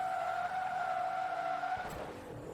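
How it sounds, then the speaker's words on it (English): A car in the racing game Forza Motorsport 2 is handbraked across the finish line. A loud, sustained tire skid squeals for nearly two seconds, then cuts off into a rumbling engine fade. "we'll handbrake it across the line as well"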